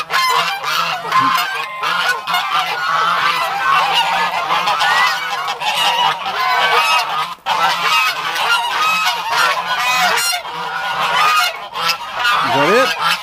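A flock of geese honk loudly and continuously at close range as they are let out of their pen, a dense overlapping chorus of calls with no talk.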